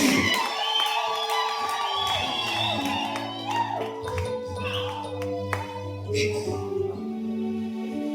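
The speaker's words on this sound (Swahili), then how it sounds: "watoto waweke makofi mazuri" A church congregation cheers and whoops, with children shouting and clapping amid a crowd, the sound dense and lively throughout.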